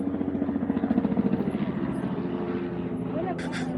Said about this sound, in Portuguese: Barulho dos helicópteros aí para voos turísticos.